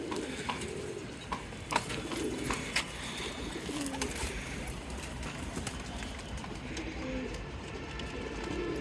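Soft pigeon coos repeat intermittently at a moderate distance, mixed with light fluttering and scattered background noise.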